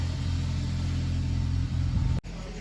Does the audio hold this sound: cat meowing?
no